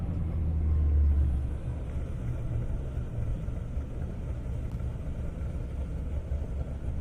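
Toyota Supra drag car on a half-mile airport strip: a low, steady engine rumble that swells in the first second and then holds at a fairly even level, with no voices.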